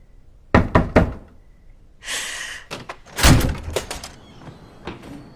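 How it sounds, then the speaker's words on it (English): A door closes in a horror drama scene: a few hard knocking thuds, then a brief rushing swell and a heavy slam with rattling, close and loud, followed by softer bumps. "She closed the door on herself."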